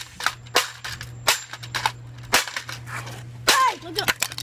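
Sharp cracking bangs from objects bursting under air compressor pressure, several loud close pops spaced irregularly over a constant low hum, with a short voice near the end.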